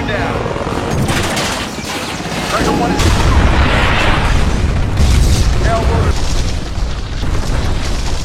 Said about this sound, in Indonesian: Satu helikopter yang tersisa harus jatuh dan meledak di atas Gedung Putih